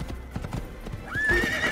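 A horse gallops with rhythmic clip-clop hoofbeats in the video game Assassin's Creed, then lets out a loud, rising whinny near the end, with no talk over it.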